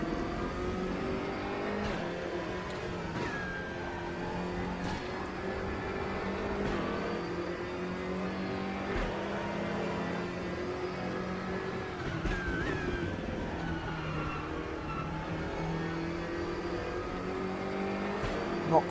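A GTR3 race car's engine in RaceRoom at Laguna Seca drones steadily with layered harmonic tones that rise and fall through gear changes, holding an even, continuous loudness over the lap.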